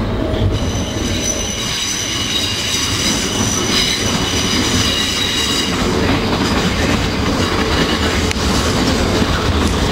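A London train rumbles steadily along the rails near Clapham Junction with continuous wheel noise and high metallic squealing throughout, loud and close, with no talking.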